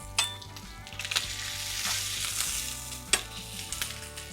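Bacon trimmings frying in a pan and being pressed into a patty for a crack burger give a steady close sizzle, with a few sharp utensil clinks and stirring scrapes.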